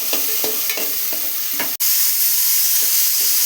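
Tomatoes sizzle steadily in a hot pan for a tempering, with a loud, even frying hiss and a run of rhythmic stirring scrapes that pause briefly before the frying carries on.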